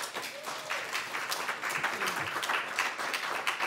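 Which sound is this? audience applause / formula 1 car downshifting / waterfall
audience applause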